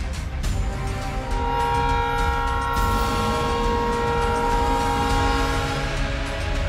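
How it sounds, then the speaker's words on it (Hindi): A loud train horn blares continuously over the heavy rumble of an approaching train, with no voices. "हॉर्न बजाती हुई तेज रफ्तार से आती ट्रेन"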